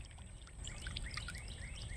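River water flowing beneath a kayak on the Chipola River at a bend, a close, soft trickling and pouring wash with faint bird chirps above it.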